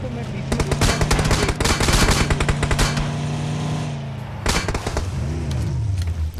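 Rapid automatic gunfire crackles in PUBG Mobile on the Miramar map in solo play, a dense burst of close shots lasting about three seconds, then a pause and a few more scattered rounds over a steady humming game background.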